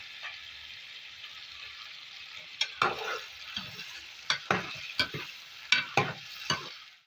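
Chicken with cinnamon frying in a karahi, a soft continuous sizzle broken by a series of sharp spatula scrapes and clinks as the pieces are stirred, moderately close with no talking.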